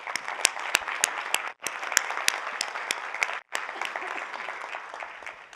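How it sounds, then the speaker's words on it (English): Group applause in a workplace meeting, a steady patter of many hands with a few sharp close claps standing out, interrupted by two brief cuts to silence before continuing. "I want to give everybody a round of applause for how we did"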